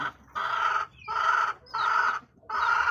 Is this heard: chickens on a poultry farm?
yes